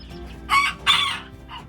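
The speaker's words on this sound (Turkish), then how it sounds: "yarka seramamızın ötüşünü duydunuz" A young pullet crows in a coop: two short, hoarse bursts close together, then a faint third, over quiet background noise.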